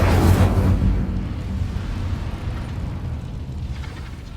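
A fire spell cast in Hogwarts Legacy erupts as a loud, close burst of flame with a deep rumble, then fades into a sustained roaring crackle.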